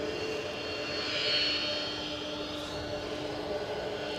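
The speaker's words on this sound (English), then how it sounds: "Ian Finley confirms we have the Washington United 757 turning in on finals." A United Airlines Boeing 757 from Washington on final approach to Edinburgh Airport sends a steady jet drone with tonal whine, swelling slightly then holding, at some distance and without voices.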